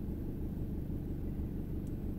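A parked car's engine idles, a steady low rumble, quiet and continuous, with no talk.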